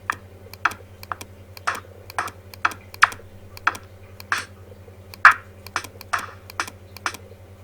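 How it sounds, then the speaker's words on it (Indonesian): Computer keyboard keys tapped in an irregular series of sharp clicks over several seconds while editing MIDI in a music program, set against a steady low hum. "kemudian kita tekan delete pada keyboard kita"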